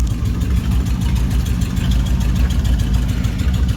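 A 1955 Dodge engine idling close by, a loud, steady low rumble with an even rhythmic pulse and no voices.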